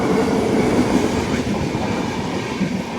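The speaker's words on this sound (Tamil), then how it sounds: "இப்போ ட்ரெயின் வரப்போகுது பாருங்க." A train rolling past a gated level crossing on the Coimbatore to Palakkad line, a loud, steady rumble close by with a continuous rushing roar and no voices.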